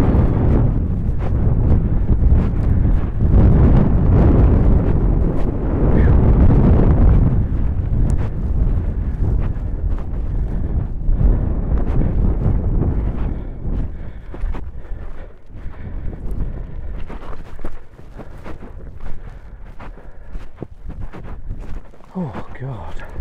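Strong wind roars and buffets the microphone outdoors near a shaft, loudest through the first half and easing to lighter gusts later, with a voice faintly present at times.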